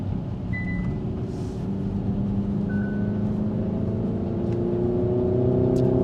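A Hyundai Ioniq 5 N electric car in N mode plays a synthetic engine-like drone that rises steadily in pitch like accelerating through a gear, loud and continuous inside the cabin.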